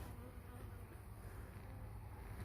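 Honeybees buzzing at the hive as they resume foraging after long cold and snow, a continuous low steady hum, faint and close, with no voices.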